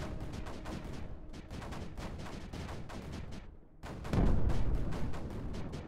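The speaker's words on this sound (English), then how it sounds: "Things are exploding, doesn't matter." Explosions in the Creeper World 4 strategy game, a rapid crackling barrage of many short blasts with a brief pause and then a heavier, louder burst near the end.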